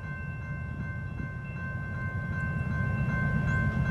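CSX freight train rumbling past with a sustained horn blast held over the low, steady roll of the wagons, the whole sound growing slightly louder toward the end.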